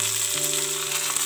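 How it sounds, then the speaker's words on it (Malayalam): Ginger, curry leaves and green chilli fry in a tablespoon of hot oil, a dense, even hiss and crackle that stays close and fairly loud for a brief moment, with no voices. "പച്ചമുളക് ഇതെല്ലാം ഇട്ടിട്ടൊന്ന് വറുത്തെടുക്കാം."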